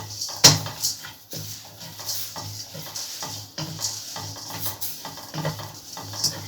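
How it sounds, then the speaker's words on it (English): Herbs for fish head curry sizzle and are stirred in a pan with a steady fry hiss, while a utensil scrapes and clinks in an irregular rhythm. "We fry it until we can smell the herb smell."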